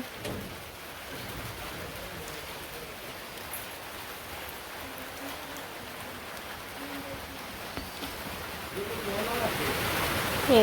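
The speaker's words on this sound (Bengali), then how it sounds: "এর মধ্যে বৃষ্টি পড়ছে" Steady rain hisses across the whole clip in a village, a dense even wash that swells a little louder near the end, with faint voices underneath.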